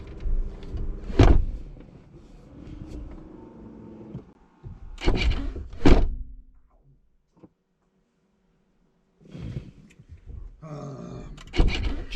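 A few loud, sharp thumps of a Corvette Z06 car door shutting, spaced apart, with mechanical clunks and a brief quiet stretch between them.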